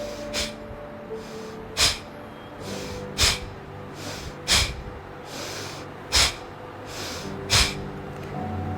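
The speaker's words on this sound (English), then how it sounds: "breathing out, pulling the tummy in and throwing the air out with a jerk." Seven sharp, forceful nasal exhalations, each pushed out with a jerk of the belly as in a breathing exercise, spaced about every one and a half seconds, loud and close, with quieter breaths between.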